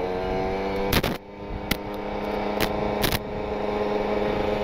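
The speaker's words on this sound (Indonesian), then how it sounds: "Teman-teman cukup dengerin aja dari suara motornya ya." Kawasaki Ninja RR motorcycle with a PWK28 carburetor on a wet setting and an R9 Neo Mugello carbon exhaust, its engine droning steadily and close with several sharp pops and crackles through the revs.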